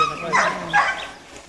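A dog barks outdoors near a beach, two loud yelping barks in quick succession, close by and slightly strained, with a faint background murmur.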